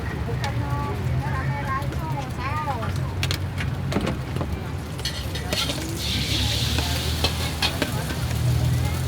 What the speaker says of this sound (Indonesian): Lagi yang ini jago ngaduk nasi goreng.